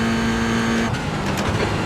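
A Toyota GR86 race car in the iRacing sim hums along at a steady engine pitch, then the tone shifts abruptly as the revs change mid-lap, loud and close with no talk over it.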